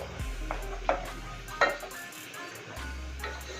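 Garlic and fenugreek seeds frying in oil for tomato pickle, a quiet sizzle broken by a few metal spoon clinks and scrapes against the pan.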